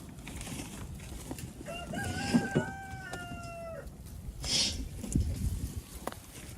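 Chickens let out from a backyard compost area give a few clucking calls and short squawks over about four seconds, with rustling and a hen's call later, moderately close.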